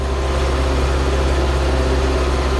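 A Başak tractor pulling a cultivator in a field ahead of beet planting, its engine droning steadily with a heavy low rumble and a constant vibrating hum, close and unbroken, with nobody talking.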